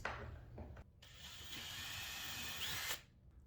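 A power drill pre-drills holes in wooden cabinet doors for hardware, with a short whirring burst, a brief pause, then a longer sustained close-up whine that stops abruptly.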